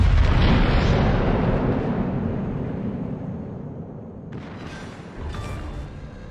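A torpedo strike sinking an enemy destroyer in a naval video game: one heavy, loud, broadband boom that rumbles and slowly fades, with a fresh burst of debris-like noise near the end.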